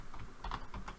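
Fingers type code on a computer keyboard, a quick run of soft, close keystroke clicks in an irregular rhythm, quiet and with no talk.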